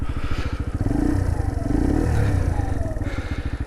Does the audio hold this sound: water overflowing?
no